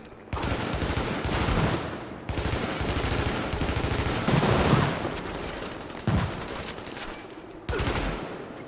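Dense video-game gunfire from The Division rattles loudly in long sustained bursts of automatic fire, separated by brief pauses, close and dominant with no talk.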